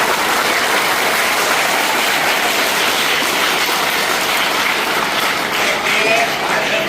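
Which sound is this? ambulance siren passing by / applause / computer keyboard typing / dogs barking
applause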